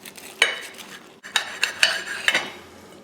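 A knife slices through a fried egg, bacon and cheese sandwich on a plate, giving close, sharp clinks and scrapes of metal on crockery in a short irregular series, with no talking.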